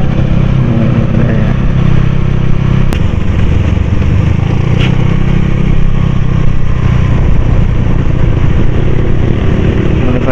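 A Yamaha Mio motor scooter rides along city streets in Bali with a steady, loud engine drone and rushing wind noise, unbroken for the whole stretch.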